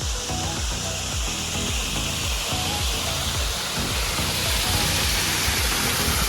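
Steady broadband rush of floodwater pouring over an old brick weir beside a creek, loud and continuous throughout, with a faint rhythmic low-end pulsing beneath the roar and no voices.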